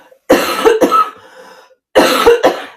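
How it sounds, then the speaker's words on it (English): Two bursts of harsh, close coughing, each a quick double cough, separated by a brief pause. "the talking might cause my cough to come back up"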